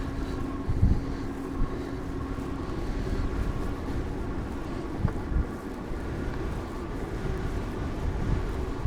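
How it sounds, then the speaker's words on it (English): Steady wind buffeting a microphone while cycling into a headwind along an Irish countryside road, a constant low roaring rumble with occasional louder gusts and no talk. "We're going right into the wind now. It's quite windy."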